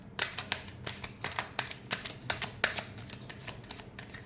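Tarot cards being shuffled, a rapid series of crisp riffling bursts and soft slaps at close range with no voices, each flutter of card edges cutting off sharply before the next.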